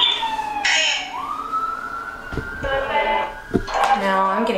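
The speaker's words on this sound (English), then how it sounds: "Sirens." A siren wails and sweeps in pitch at a distance, with scattered clatter and bursts of other noise breaking in.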